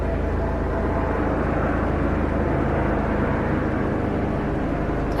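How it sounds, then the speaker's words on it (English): A helicopter or aircraft flies overhead, giving a steady, loud, broadband engine drone that holds constant throughout with no talking. "It sounds like a helicopter."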